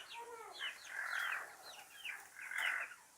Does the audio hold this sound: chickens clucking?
yes